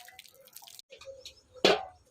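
Water drips and splashes sparsely while clothes are washed at home, a few faint wet taps followed by one louder splash near the end, close by and without talk.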